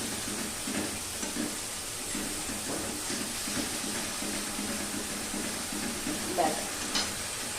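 Spiced gravy for an elephant foot yam kofta kalia sautéing in a pan, giving a soft steady sizzle with faint scraping from stirring. It is fairly quiet, with a small clink near the end.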